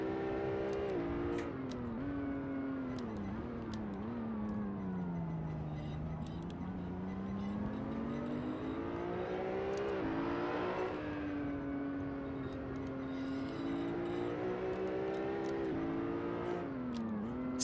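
A race car built for the GT1 class revs hard on the move, its engine note climbing, dipping low, then surging again over a long continuous run with constant road and wind roar.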